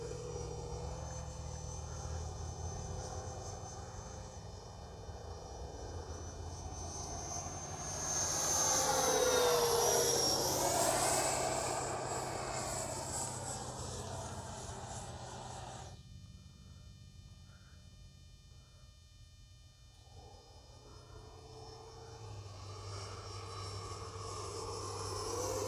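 Freewing Avanti S V2 radio-controlled jet flying with low rates, a steady turbine-like whine that swells as it passes close around the middle, then fades and returns, heard alone without talk.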